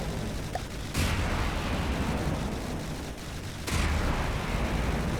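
A turret in the naval combat game From The Depths fires in two heavy booming blasts about three seconds apart, each followed by a rumbling wash of explosive noise, with no talk.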